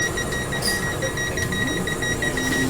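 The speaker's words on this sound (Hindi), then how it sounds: "बीप बजने लगा है यहाँ पर" Repeated electronic beeps sound inside a Howrah–Kamakhya sleeper Vande Bharat Express as the automatic doors prepare to close, a steady pulsing tone over the carriage's hum, with no talk.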